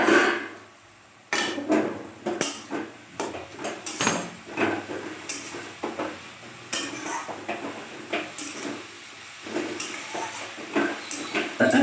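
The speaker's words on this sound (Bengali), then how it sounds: "দেখো এবার আমি ঢাকনাটা তুলবো ঢাকনাটা তুলে আমি দেখবো শাকটা কতদূর সেদ্ধ হলো" Metal lid lifted off a cooking pot of simmering radish greens, with clattering pot and utensil sounds, scraping and faint sizzling from the pot throughout.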